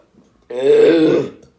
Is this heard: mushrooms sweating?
no